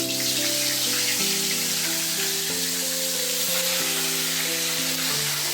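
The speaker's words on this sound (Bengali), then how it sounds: "নুন হলুদ মাখিয়ে আমি এখন এক এক করে ভেজে নিচ্ছি" Koi fish coated in salt and turmeric fry in hot oil with a loud, continuous sizzle, while a steady tonal hum runs underneath.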